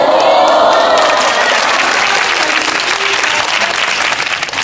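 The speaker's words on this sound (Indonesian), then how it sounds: "Ayo anak-anak tepuk tangan, aku udah nunggu." A classroom of schoolchildren claps together in a loud, dense burst that fills the room, tapering slightly toward the end with no talking over it.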